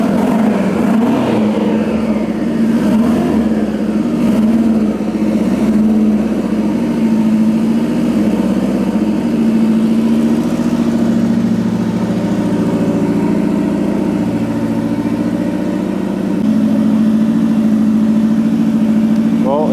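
A car engine at a Japanese bodyshop building a TRA Rocket Bunny Pandem, loud and close, revving up at the start and then settling into a steady idle with a deep, rumbling drone throughout.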